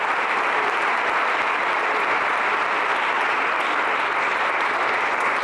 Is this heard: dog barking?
no